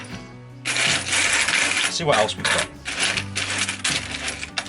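Old coins and modern pennies clink and rattle as they are handled and dropped, a busy run of bright metallic taps and jingles close by, while a voice talks over them.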